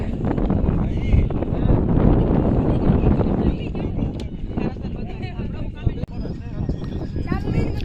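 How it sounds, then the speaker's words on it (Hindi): Strong wind buffets the microphone at the Mount Abu shooting point, a loud steady low rumble that runs throughout with brief gusty dips, while people talk underneath. "क्या हवा चल रही है"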